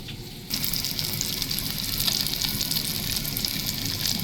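Dried chillies and fish fry in hot oil, a steady dense sizzle that starts abruptly and continues close and fairly loud.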